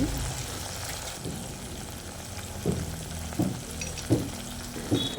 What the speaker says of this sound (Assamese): আৰু এতিয়া মই মছলাখিনি অলপ দেৰি ভালকৈ ভাজিম